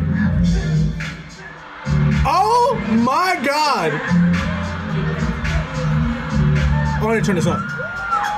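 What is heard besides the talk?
concert crowd cheering in fancam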